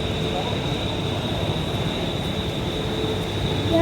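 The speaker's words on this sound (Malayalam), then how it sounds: "ശേഷം നമ്മളിതാ എത്തിയിരിക്കുന്നു CSMT railway station, മഹാരാഷ്ട്രാസ് largest railway station." A train pulls into CSMT railway station in Mumbai, producing a steady low rumble and hum with a constant high whine, and a brief rising wheel squeal near the end.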